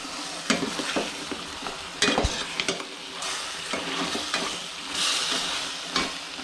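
Steady sizzling of chicken frying dry in a pan with chilli powder, broken by scraping stirs and occasional clinks of a utensil against metal.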